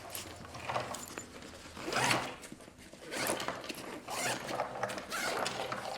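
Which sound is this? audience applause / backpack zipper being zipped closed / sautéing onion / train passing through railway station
backpack zipper being zipped closed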